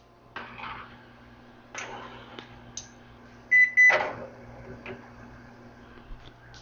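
An oven beeps repeatedly because its door has been left open while cakes bake, sharp electronic tones scattered among kitchen clatter and handling noises, with one louder burst of beeps midway.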